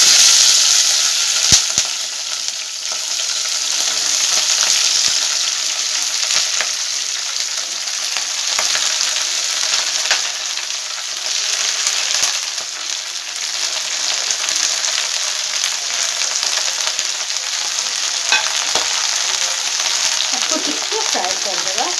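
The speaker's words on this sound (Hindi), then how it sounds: "तेलटा गरम हो गला परे जो पियाज संडा अच्छी आपको आम प्रथम टिके फ्राए करदे तेल में" Onion leaves frying in hot oil for an onion leaf and potato fry: a continuous, even sizzle with scattered small crackles and pops, steady throughout and close to the pan.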